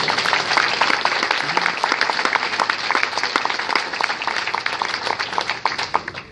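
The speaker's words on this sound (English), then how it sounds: "And Tom Orloff, go ahead and clap on that." Loud, sustained applause fills an ACLU conference hall during a keynote, many hands clapping densely and continuously from a close audience, with no speech over it.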